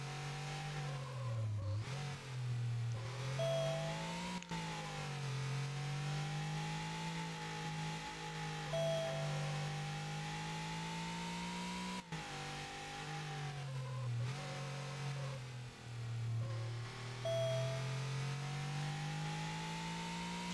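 Porsche 993 Carrera engine in a racing video game, a steady mid-pitched drone that rises and falls as the car revs through gear changes, loud and continuous with no talk.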